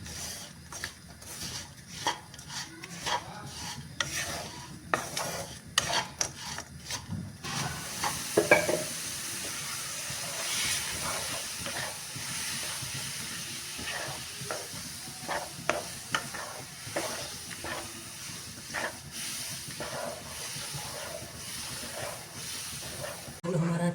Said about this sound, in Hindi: इसको लगातार चलाते हुए हम गुड़ को पिघला लेंगे।